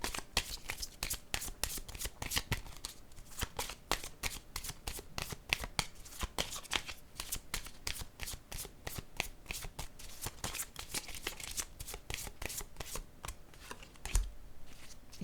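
A deck of playing cards is riffled and shuffled over and over in quick, crisp bursts, close and steady throughout, with no talking.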